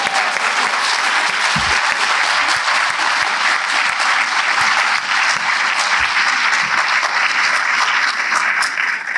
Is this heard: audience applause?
yes